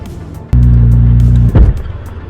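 A Ferrari sports car roars close by with a loud, steady engine drone for about a second, followed by a brief surge and lower rumbling as it drives on.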